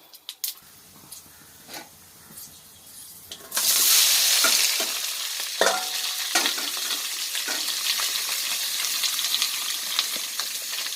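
Fenugreek seeds fry in hot oil, bursting into a loud, steady sizzle that starts suddenly and carries on with occasional stirring scrapes; no one talks.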